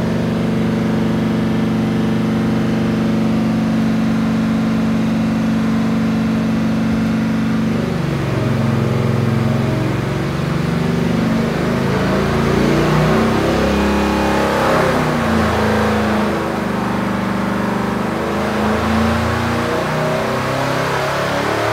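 A 383 engine revving hard on a dyno, climbing from a steady loud drone through a rising roar, continuous and close.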